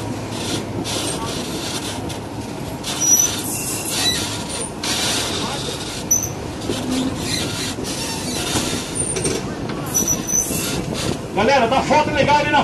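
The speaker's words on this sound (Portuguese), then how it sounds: "Olha o trem na curva direita" A passenger excursion train rounds a right-hand curve on the mountain line between Curitiba and Morretes, near Marumbi, with a continuous rumble of wheels and carriages and intermittent high metallic squeals from the rails, heard from aboard under faint chatter.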